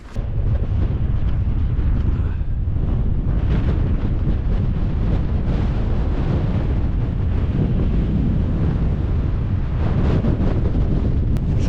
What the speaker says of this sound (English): it is cold in that wind